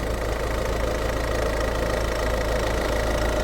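A Peugeot 3008 II with a 1.6 BlueHDi 120 hp diesel engine and automatic gearbox idling steadily, a low, even clatter with a slight knock, heard up close and alone.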